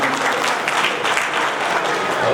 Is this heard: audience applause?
yes